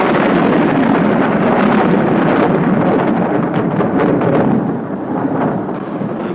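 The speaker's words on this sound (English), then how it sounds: "Well, the storm's definitely on its way now, Jim." An approaching storm: loud, continuous roaring wind with deep rumbling thunder, easing slightly toward the end, with no voices.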